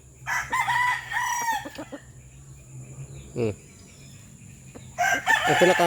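Roosters crow loudly and close by, one long crow at the start and another at the end, with a short cluck in between.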